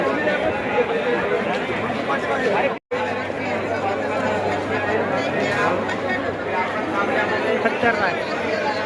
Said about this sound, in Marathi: एकदम खतरनाक गर्दी